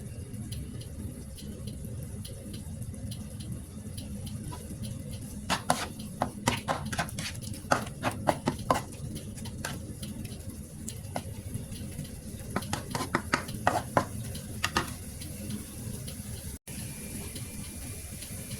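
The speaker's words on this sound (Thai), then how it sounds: "ก็ผัดไปจนกว่าเนื้อจะสุกจ้า" Beef is stir-fried with basil and dried chili in a pan, heard as a soft continuous sizzle under scattered sharp taps and scrapes of a spatula that bunch into two clusters of stirring.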